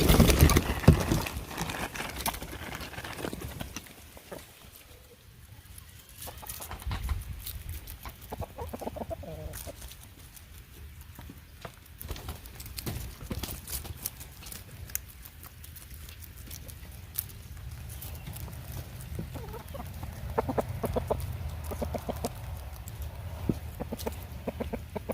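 Hens clucking softly in a compost-filled chicken yard, scattered calls over a quiet background with occasional rustling and scratching.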